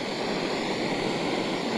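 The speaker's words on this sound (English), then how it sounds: "Now it's burning and it's on." A JetBoil Zip gas stove burner burns with a steady, close, roaring whoosh that holds even throughout, with no talk.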